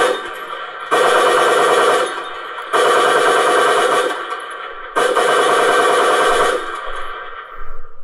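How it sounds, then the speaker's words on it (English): Machine gun sound effect for a Fokker D.VIII model aircraft, playing three loud sustained bursts of rapid rounds, each about a second or more long, separated by short pauses with a faint hum between. "one little burst of rounds, and then I've got a longer series of bursts of rounds so that I can simulate that in the air"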